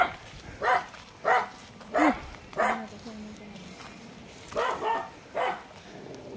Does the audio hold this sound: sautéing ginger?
no